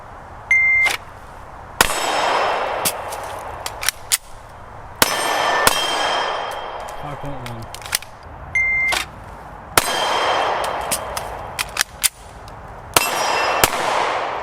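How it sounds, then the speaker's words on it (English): Several gunshots from a SIG P320 X-Carry pistol striking a steel gong, sharp bangs each followed by a ringing metallic clang, spaced out over a reload pause, close and loud with no talking. "We take one shot here, then reload and take 2 more shots, both at the gong."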